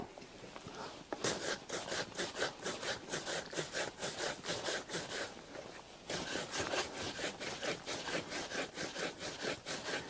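A leather monk strap shoe is buffed with fast, rhythmic back-and-forth rubbing strokes, loud and close. The strokes run steadily for several seconds, pause briefly, then resume.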